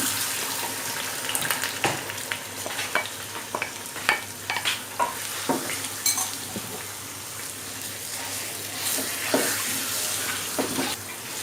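Soaked semolina and sugar being roasted over a low flame for makhandi halwa give a close, wet sizzle broken by repeated spoon scrapes and knocks as it is stirred, with no speech.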